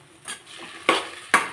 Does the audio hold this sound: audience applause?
no